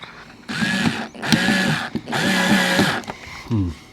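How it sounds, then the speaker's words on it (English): A cordless power drill fitted with a new bit runs in two sustained whirring bursts, close and loud, each rising and straining for about a second, followed by brief clicks and a short voice at the end. "New drill bit."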